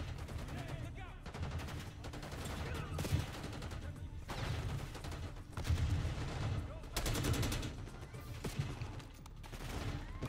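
Dense, sustained gunfire in Call of Duty Black Ops 6: rapid volleys and bursts of shots overlap continuously, loud and close, swelling and easing in waves.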